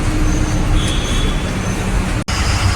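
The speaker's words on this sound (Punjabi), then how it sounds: "ਅੱਡਾ ਉੱਪਰ ਟ੍ਰੇਨ ਚੱਲ ਰਹੀ ਆ" A loud, continuous rumble of a train rolling overhead, echoing as if heard from beneath, with a brief sharp dropout near the end.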